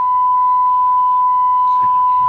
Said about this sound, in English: that's the fire alarm going off